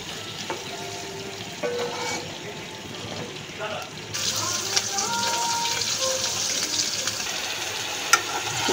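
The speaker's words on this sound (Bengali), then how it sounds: "এখানে ডিমটা ভেজে নিচ্ছি।" An egg frying in a pan with a low, steady sizzle that swells louder partway through, broken by small clinks and scrapes close by.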